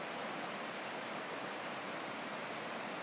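Floodwater in Hickory, North Carolina rushes over and under a river bridge, giving a steady, loud, close roar of broadband water noise with no break and no voices.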